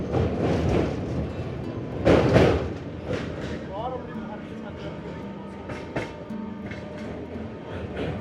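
The Amrit Bharat Express rumbling and clattering as it moves through Bankra Nayabaz station, with a brief high squeal and muffled voices underneath.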